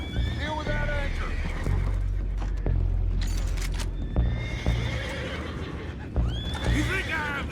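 Horses in Red Dead Redemption 2 neigh and whinny several times amid hoof clops and a busy, rumbling background, with voices talking now and then.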